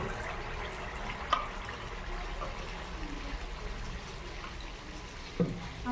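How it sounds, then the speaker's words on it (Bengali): Malpua batter frying in hot oil gives a steady, even sizzle that runs the whole time, broken by a couple of brief sharper clicks. "তেলটা একটু গরম হয়ে গেলেই পিঠাগুলো ভেজে নেব।"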